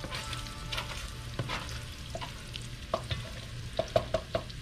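Bacon sizzling in a frying pan as it is pushed aside, a continuous hiss punctuated by scraping and clinking of a utensil against the pan, growing busier toward the end, no speech.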